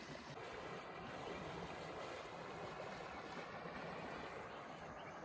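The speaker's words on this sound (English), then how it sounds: "Little mountain streams." A little mountain stream flows with a steady, unbroken rushing babble of water, constant and fairly faint throughout, with no voices.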